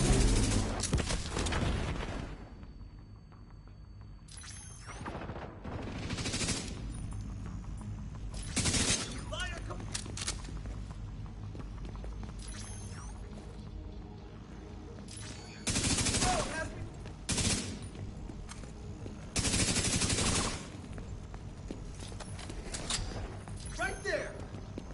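Airburst gunfire in The Division 2: scattered loud shot bursts and blasts recur across a long stretch of combat, separated by quieter lulls, with a voice talking over parts of it.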